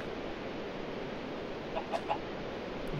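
A Minecraft chicken gives a few soft, short clucks in quick succession over a faint, steady background hiss. The clucks stay quiet and distant, and no one speaks.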